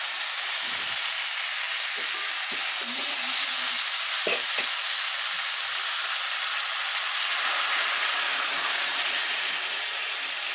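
Spice paste with cauliflower and potato, for a koi fish curry, fries in a pan with a steady broadband sizzle, plus a few faint spoon scrapes and stirs, heard close and alone.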